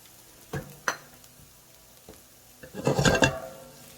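Ginger hits hot olive oil in a pan: a few sharp clinks and scrapes of a utensil, then a brief, louder burst of sizzling and stirring near the end, fairly close, with no talking.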